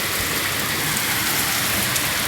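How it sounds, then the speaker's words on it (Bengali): Heavy rain pours down on a village, a dense unbroken hiss of drops drumming on surfaces, steady and loud throughout with no voices. "এত পরিমাণে বৃষ্টি হচ্ছে"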